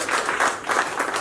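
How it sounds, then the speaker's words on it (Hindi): A theatre audience claps in a short, lively burst of applause, the hands pulsing in quick uneven waves, fairly close and full. "इनके लिए तालियां दीजिए"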